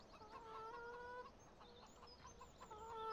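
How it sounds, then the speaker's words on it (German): Chickens cluck and squawk on a farm in the tractor game Landwirtschafts Simulator 17, a steady run of close, overlapping bird calls over soft game ambience. "Hier rennen die Hühner rum."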